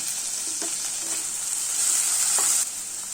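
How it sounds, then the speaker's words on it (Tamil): Chopped tomato sautéing in a hot pan for a veg and cheese sandwich filling, a steady close sizzle with a few soft stirring scrapes, no talking. "இதையும் நல்லா வதக்கிக்கலாம்."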